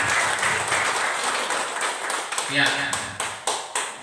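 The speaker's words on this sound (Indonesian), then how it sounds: "Tepuk tangan dulu." Applause at a community outreach meeting in a village, a crowd clapping in a loose, uneven pattern with sharp individual claps standing out, while voices talk over it toward the end.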